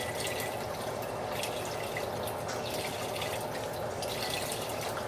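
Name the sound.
water being added to broth for keto ramen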